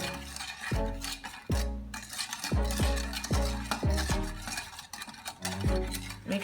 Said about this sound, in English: now it's still boiling, so we'll just stir that up.